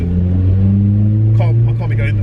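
A Honda Civic Type R, EP3 or FN2, accelerates in a short pull on a wet road. The engine drones loud and steady with a rising note, close to the microphone, with a brief burst of higher noise midway.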